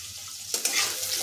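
Ginger and green chili paste hitting hot oil with pieces of potato and taro, a sudden loud burst of sizzling halfway through that carries on strongly after a quieter start.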